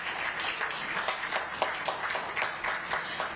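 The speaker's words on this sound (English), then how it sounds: "So let's clap to that." Audience at a philanthropy gathering in Uganda clapping, a moderate, even patter of many hands at medium distance, continuous and without cheering.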